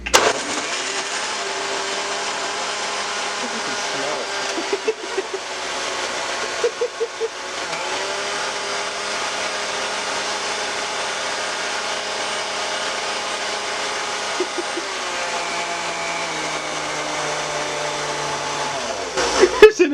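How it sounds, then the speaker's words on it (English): A blender whirs continuously with an egg and drinks inside, a steady motor drone running near and loud for the whole stretch, with slight pitch shifts and a few knocks as the load moves. "This is Jerry's blender"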